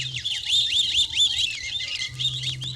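Springtime birds chirp in quick, repeated high tweets and short trills, clear and fairly close, with a faint low hum beneath and no voices.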